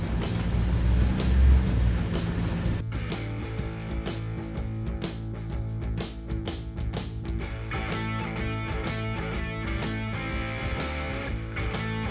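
Engine and road noise from inside a moving car: a steady low rumble with a continuous hum, shifting in character after the first few seconds, no one speaking.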